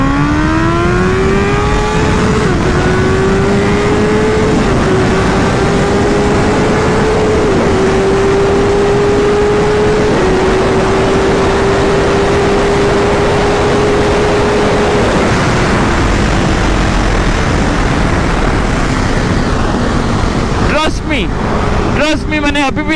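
A heavy motorcycle accelerates hard at high throttle while held in one gear, the engine note climbing steadily in a loud, sustained drone for about fifteen seconds before easing off and ending with wind buffeting.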